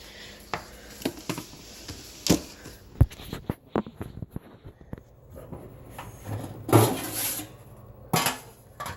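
Two slices of bread set into a dirty toaster oven, with close metallic clanks, rack rattles and knocks scattered irregularly, including a clattering burst near the end.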